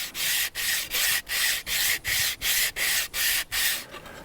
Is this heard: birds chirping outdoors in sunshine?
no